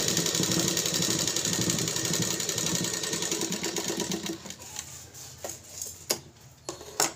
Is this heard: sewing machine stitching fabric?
yes